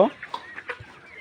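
Several chickens, some with watery, pus-filled, swollen eyes, give a few soft, brief clucks close by, with a voice talking at the same time.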